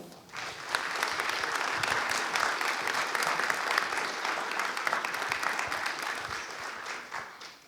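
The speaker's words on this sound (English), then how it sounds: "If we can get another round of applause for all of our speakers today." A conference audience at PyCon UK 2025 applauds its speakers, a full, sustained roar of many hands clapping that swells in quickly, holds steady with scattered sharper claps, and tapers slightly at the end.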